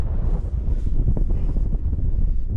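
Strong, steady wind buffeting an exposed mountain ridge on Crinkle Crags, a constant loud low roar and rumble of gusts against the microphone.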